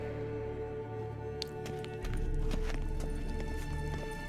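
Rapid hoofbeats of a galloping horse over a steady low hum and musical drone, the pounding growing louder midway through, in The Witcher 3: Wild Hunt.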